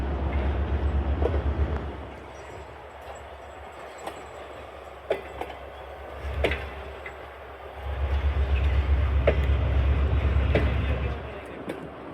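The Jaffar Express rolls slowly out of Lahore with a deep, rumbling roll and scattered metallic wheel clacks; the rumble eases in the middle and swells again toward the end.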